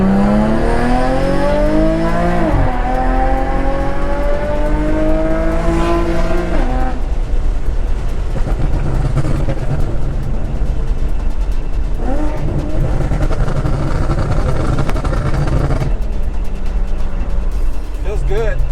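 An Infiniti G37 sedan with a Y-pipe upgrade accelerating hard, engine pitch climbing through rising sweeps with gear changes between them, then settling into a steady drone, with talking over parts of the run.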